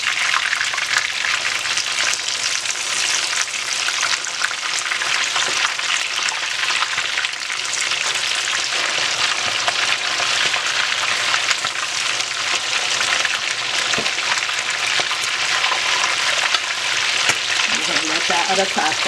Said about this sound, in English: Been frying for about 10 minutes and I'm going to flip the fish on the other side.